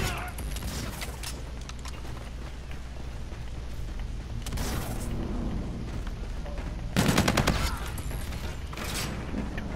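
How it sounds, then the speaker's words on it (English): Minigun fire in the video game Call of Duty: Infinite Warfare, with several bursts of rapid mechanical gunfire over steady game background noise, one longer loud burst near the end. "The mini gun! This is a new gun!"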